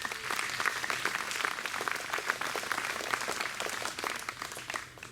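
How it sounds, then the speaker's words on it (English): Concert audience at the gig at Abbotsbury applauding the lighting technician, a steady, moderately distant crowd clapping with scattered sharper claps throughout, continuous for about five seconds. "Give Marcus a round of applause."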